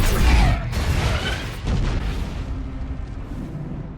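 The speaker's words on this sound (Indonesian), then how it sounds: "tiba-tiba gedung meledak" A building blows up in a Superman film scene, giving a loud deep blast that rolls on as a sustained rumble and slowly fades.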